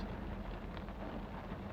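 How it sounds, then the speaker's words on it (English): Steady rain hissing evenly throughout, a dense wash of noise with a low rumble underneath and no voices. "the rain is actually pretty nice."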